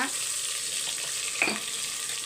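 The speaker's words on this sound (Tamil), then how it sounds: "உப்பு போட்டு நல்லா மிக்ஸ் பண்ணி விட்டுடலாம்" Food fries in a pan as salt goes in and gets mixed through, giving a steady, close sizzle with a couple of soft stirring scrapes and one brief sharper tick.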